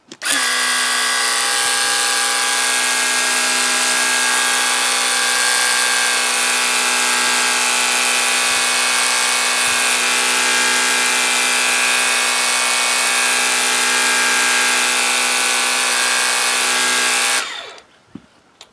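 A Ryobi power cleaner sprays through a 15-degree nozzle with a loud, steady, high-pitched motor whine and hiss that runs unbroken for about seventeen seconds and then cuts off abruptly.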